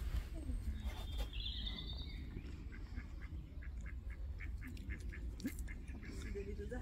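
Ducks quacking outdoors in the grounds of a historic hall, a run of short repeated calls at middling distance over steady wind and ambient noise, with brief voices nearby.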